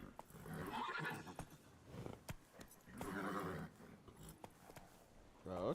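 Roach, a horse in a video game, lets out a whinny and gallops with rhythmic hoofbeats, the sounds rising and falling across a few seconds and ending in a sharp neigh.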